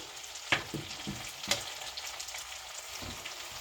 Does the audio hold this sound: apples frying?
yes